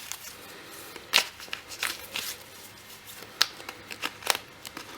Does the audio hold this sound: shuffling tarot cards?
yes